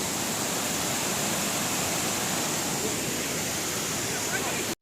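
Steady, loud roar of a waterfall in the Brecon Beacons Four Waterfalls area of Wales, a dense unbroken rush of falling water filling the whole clip with no voices, cutting off abruptly at the end.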